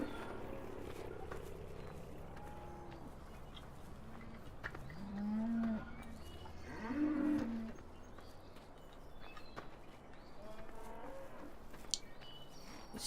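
Cattle moo in a farming video game, with several long, low calls in sequence over steady ambient farm noise, moderately distant.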